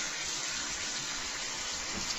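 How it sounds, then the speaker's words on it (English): Warm tap water runs steadily from a faucet for hand washing, a close, constant hissing gush with no breaks and no voices. "you want to turn the soap and water on"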